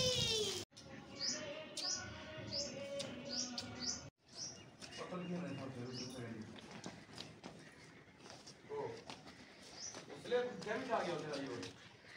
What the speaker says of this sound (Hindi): और ये हमारे पड़ोसी कौवे।